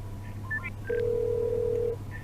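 A phone call placed to a complainant rings out in a long, steady tone under a low hum, with a few short beeps just before it, heard alone with no voices.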